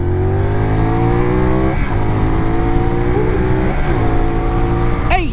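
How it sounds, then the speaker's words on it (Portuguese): A CFMOTO 450 NK motorcycle accelerates hard at full throttle. The engine note climbs sharply through each gear, with quick shifts breaking the rising wail, heard loud and close from the rider's position. "aproveitar a fazer aqui e agora damos-lhe o gás"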